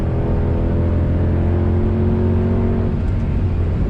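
A Mercedes W204 C63 drones loudly and steadily from onboard on the Nordschleife, then its pitch dips briefly near the end as the driver short-shifts.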